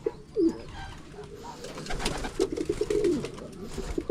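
Racing homer pigeons coo softly nearby as they are released, with a few low throaty calls over faint background rustle and distant noise.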